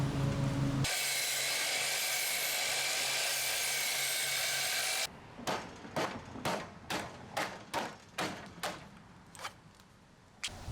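A saw cuts into a cedar board on a balcony build, one long steady rasping cut followed by a quick series of about ten short, rhythmic cutting strokes, close and clear with no talk.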